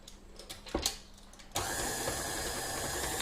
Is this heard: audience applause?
no